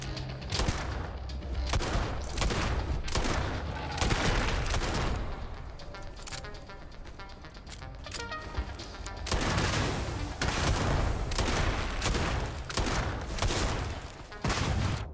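Repeated gunshots from a gun in the sci-fi shooter Starfield ring out in irregular bursts and clusters over about fifteen seconds, loud and close, with background game music audible between volleys.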